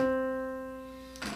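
A single plucked guitar note rings out clearly and decays slowly over about a second, then a brief noise cuts in at the end.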